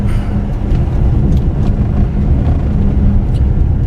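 A 2013 GMC Terrain Denali AWD rolls over a rough, bumpy road, its steady low road and engine rumble loud and continuous with faint thumps throughout.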